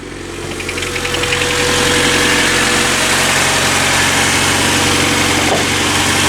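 A car engine with no exhaust fitted idles loud and close with a rough, rattling rumble, building over the first seconds and then holding steady.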